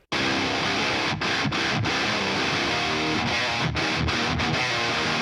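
Two distorted metal guitar tracks, one an Ibanez through a 5150 and the other a PRS through a Mesa Triple Rectifier, blend into a thick, loud chugging riff with brief stops, no talking.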